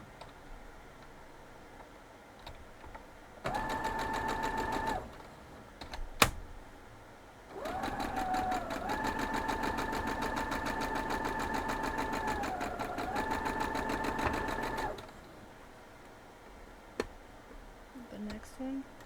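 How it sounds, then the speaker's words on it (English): A sewing machine stitches cotton quilt pieces together in two bursts, a short run and then a longer steady one of about seven seconds, with close rapid needle chatter and quiet gaps between. "We're just going to sew these 2 up as smoothly as the last 2 went"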